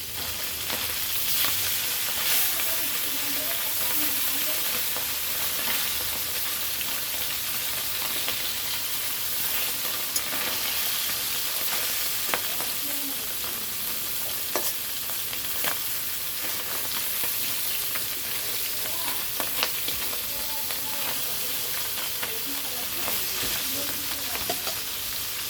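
Tangra fish frying in a pan, a continuous dense sizzle with scattered pops and occasional light utensil clicks, close and steady with no talk.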